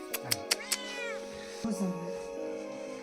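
A cat meows several times close by, a quick run of short cries followed by a longer drawn-out meow, in a storeroom at a mountain stop, with people talking softly in the background.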